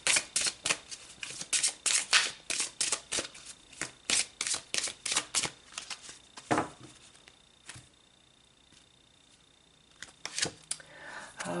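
Oracle cards are shuffled in quick, crisp riffling bursts, a rapid run of close papery slaps that pauses into near silence before a few more shuffles return at the end.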